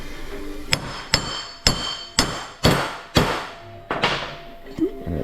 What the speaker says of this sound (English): I'm going to get our hammer.